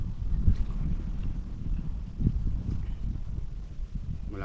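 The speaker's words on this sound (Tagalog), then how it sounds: "Malakas ang hangin dito." Strong wind gusting across an open mountaintop campsite, a continuous low rumbling buffet of air against the microphone with no talk.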